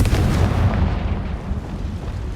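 Confringo fire spell exploding in Hogwarts Legacy, a dense, loud roaring blast with rumbling low end that fills the whole stretch and slowly tails off.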